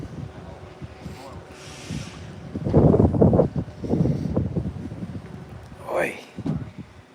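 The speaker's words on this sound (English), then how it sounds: "it is so windy out today" Strong gusts of wind buffet the microphone in loud, uneven bursts, with a person's voice briefly heard amid the noise.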